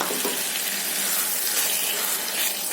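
Ground spice paste with onion and tomato sautéing in oil for a mushroom curry, a dense, even hiss of frying that stays loud and constant throughout.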